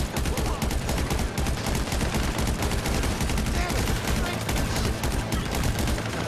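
Rapid, dense AK rifle fire in a video game, a loud continuous fusillade of cracking shots with no pauses, mixed with faint voices in the background.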